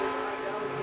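Stock race cars roaring at over 185 mph during the 1997 Gargoyles 300, a steady, dense engine drone with a strong tonal whine held throughout, heard as if from a broadcast feed.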